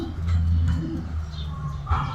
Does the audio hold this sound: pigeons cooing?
yes